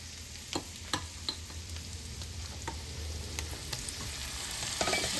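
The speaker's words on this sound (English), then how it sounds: "I'm gonna saute this probably 2 more minutes just to give so the peppers can get a little soft" Peppers sautéing in a pan for southern fried cabbage with bacon and sausage, a steady close sizzle with occasional pops and stirring clicks, no talking.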